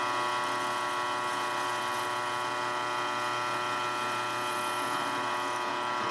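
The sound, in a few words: drill press drilling a hole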